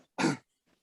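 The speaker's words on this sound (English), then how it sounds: "Blitzen coughed." A single short, harsh cough, close and fairly loud, followed by a faint breath.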